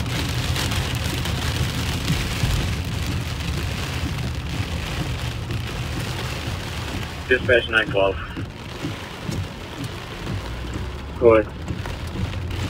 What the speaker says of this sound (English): We do have a Tier 1 severe thunderstorm warning until 11:15 p.m. tonight.